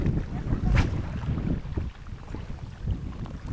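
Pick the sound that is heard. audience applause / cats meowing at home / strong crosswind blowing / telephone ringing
strong crosswind blowing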